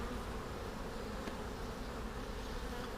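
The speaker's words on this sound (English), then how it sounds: "I'm telling you, this hive is humming." Honey bees fill a crowded, busy hive with a dense, steady hum. The buzzing sits close and even for three seconds with no voices over it.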